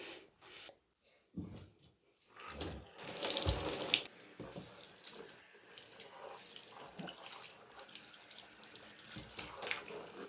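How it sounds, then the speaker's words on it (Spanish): Tap water runs steadily into a household sink while dirty boots soak, with a louder splashing burst early on and continuous flow to the end, close and alone without talk. "Lo que hago es remojar un poco los zapatos con agua únicamente antes de agregarle el jabón."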